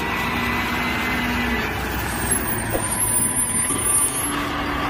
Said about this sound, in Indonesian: Truk pengangkut sampah.